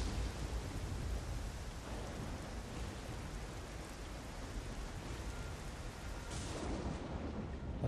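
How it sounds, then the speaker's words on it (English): Steady heavy rain with rolling thunder fills a Nioh game thunderstorm, a dense continuous roar at constant loudness with a brighter rumble swelling near the end. "A lovely storm."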